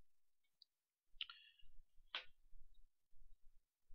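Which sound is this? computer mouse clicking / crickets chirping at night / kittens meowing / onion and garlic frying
computer mouse clicking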